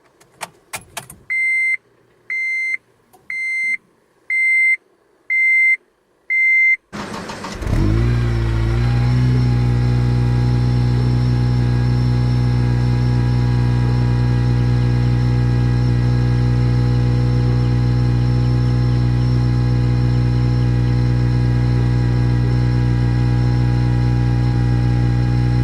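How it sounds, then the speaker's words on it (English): Keys jangle in short bursts, then a turbocharged Honda Civic Si engine cold starts with a sudden roar and settles into a loud, steady idle that runs on for many seconds. "So the car is on now."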